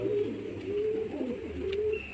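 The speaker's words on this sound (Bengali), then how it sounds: "পায়রা খুব চঞ্চলতা ভাব পায়রার মধ্যে হাতে মোটে থাকছে না পায়রা ছটফট করছে" A restless Madras pigeon held in the hand gives repeated low cooing phrases, steady and close, with faint shuffling of wings between calls.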